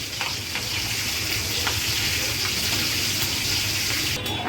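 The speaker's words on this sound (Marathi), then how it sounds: "आता मिरच्या आपण फ्राय करायला घेणार आहोत" Green chilies frying in hot oil for chivda, a steady close crackling sizzle with scattered small pops throughout, moderately quiet and with no voices.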